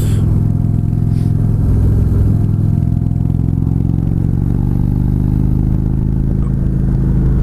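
A 2015 Indian Chieftain touring motorcycle rides regular city streets near Pebble Beach, its low engine drone and wind rumble steady and loud throughout, with no voices.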